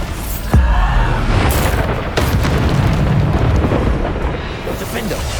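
Bombarda spell explosions in Hogwarts Legacy on PS5, a few heavy booming blasts with rumbling tails, loud and close, with game sound beneath.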